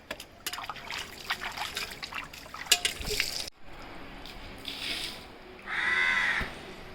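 A crow caws at dawn near a home, a few sharp calls heard over household sounds such as trickling water and clinking dishes, fairly close and moderately loud.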